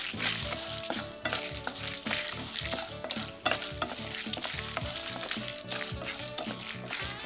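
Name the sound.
urad dal and flaxseed frying and stirred in a pan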